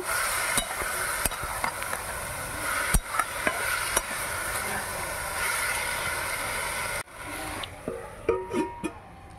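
Ash gourd curry with turmeric and salt is stirred in a hot pan, a steady sizzle broken by sharp spatula clicks and taps; the frying drops away abruptly near the end, leaving a few scattered clatters close by.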